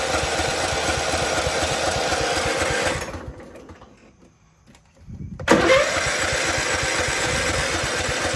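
Husqvarna YTH1542 lawn tractor engine running loud and close on choke, its throttle dropping to a near stop before it roars back up to a steady run.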